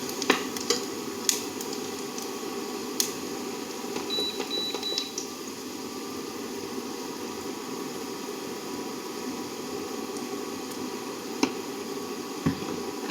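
Onions with chili and turmeric powder roasting in a pan for a rustic brinjal stir-fry, a soft steady sizzle with occasional scrape and stir clicks of a spoon, fairly quiet.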